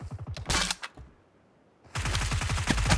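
Rapid automatic bursts from a UMP submachine gun in a video game, two loud close volleys separated by a brief quiet gap.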